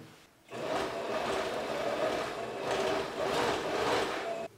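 A sewing machine runs steadily, stitching the lining and facing of a pair of men's shorts together, in one continuous close whirring stretch with a brief pause partway through.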